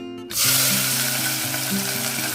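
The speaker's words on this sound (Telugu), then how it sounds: "ఇవన్నీ వేసి బాగా ఫ్రై చేద్దాం." Chopped onion, green chilli and mint dropped into hot oil in a pan, a sudden loud sizzle that stays steady and close, with a faint tonal hum underneath.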